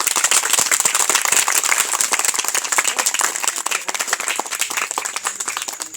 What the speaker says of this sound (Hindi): बहुत खूब, एक बार जोरदार तालियां चाहिए।